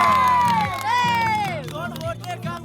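Young voices cheer and shout together in a lively crowd, loud and close, with rising whoops and overlapping yells filling the whole moment.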